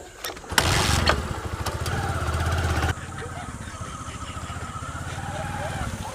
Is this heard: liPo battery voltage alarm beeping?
no